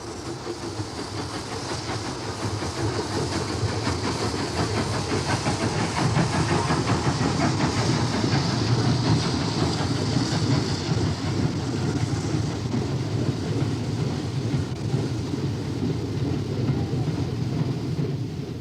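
Steam locomotive Maude rolls into Waverley Station, Edinburgh, with a steady rumbling roar, hissing steam and faint clickety-clack of wheels over rails, continuous and moderately loud throughout.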